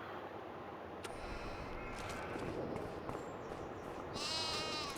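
Goats bleating in a video game, a few short animal calls over a steady background hum, with a louder bleat near the end.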